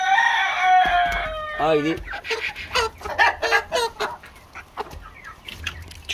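A rooster crows loudly up close in a garden, followed by a run of chickens clucking, with a person calling out briefly in between.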